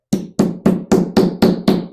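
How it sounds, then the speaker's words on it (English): A small hammer strikes curved copper, flattening it for a handmade copper bird feeder: seven sharp, evenly spaced metallic blows in quick succession, close and loud, with no talking. "I'm going to take a smaller hammer and see how it is sort of curved like that. We're going to flatten it out"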